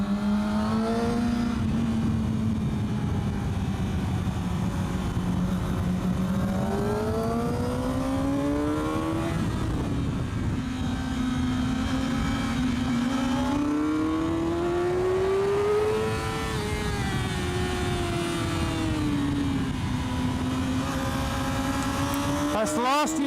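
Honda CBR600 and Yamaha R6 600cc sport motorcycles ridden along a Spanish road, their engines droning loud and close throughout, pitch rising and falling in long sweeps as the riders work through the bends.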